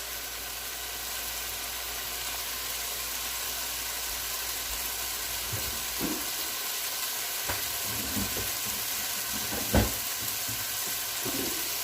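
Carrots hit a hot pan with chicken and noodles, giving a continuous soft sizzle and hiss with a few sharp clicks and scrapes of a utensil stirring near the end.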